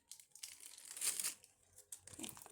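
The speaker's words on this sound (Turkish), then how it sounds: "Yanlışlıkla bantımı çıkardım da" Crinkly tearing and peeling noises, like adhesive tape being pulled off, in a few short close bursts with brief pauses between.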